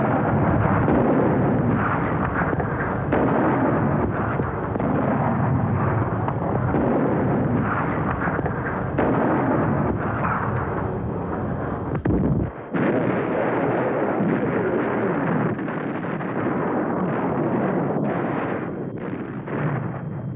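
Heavy German artillery bombarding Sebastopol: a continuous, loud, rumbling barrage of blasts that keeps going without pause, with no voices.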